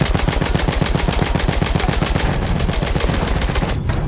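Sustained, loud automatic gunfire in Battlefield 1, a steady rapid stream of shots that pounds on without pause.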